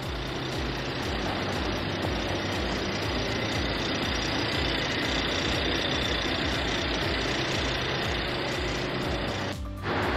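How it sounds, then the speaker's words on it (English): The engine of a 2018 Mercedes-Benz E400 idles steadily and close by, a continuous even rumble with no talk, ending in a brief break near the end. "let's take a look at the engine of the car."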